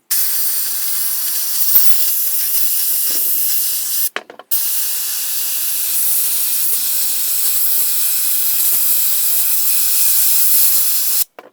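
Walnut shell media blasting engine cylinder heads, a loud steady hiss of air and grit running almost without pause, broken once by a brief stop around the middle before resuming.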